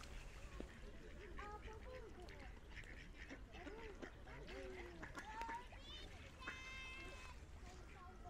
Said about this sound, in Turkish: Ördekler de var sanırım.